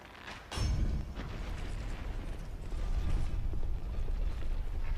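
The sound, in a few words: rotating crushing mechanism in the video game Dark Souls II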